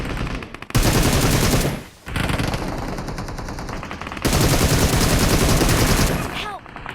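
Loud machine-gun bursts from the video game PUBG Mobile roar in long sustained volleys, breaking briefly between them and fading out at the end.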